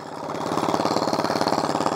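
A riding lawn mower engine, running with its governor left on during an offroad test, revs up quickly into a loud, steady, rapid pulsing drone.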